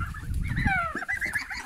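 Hungry farm ducks call with a few close, nasal honking quacks over a low rustling background while feeding.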